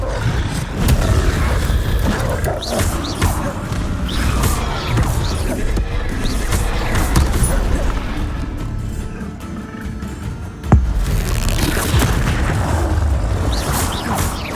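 Fiery Confringo spell blasts in Hogwarts Legacy boom repeatedly through a loud, dense combat soundscape, with a sharp burst near the end standing out above the steady roar.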